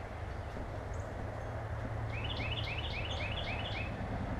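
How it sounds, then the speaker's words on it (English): A loud bird calls outdoors, a repeated series of rising chirps from about halfway through, over steady low background noise. "Got a bird calling up here."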